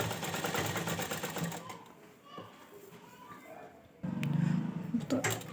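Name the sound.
sewing machine stitching lace onto an odhani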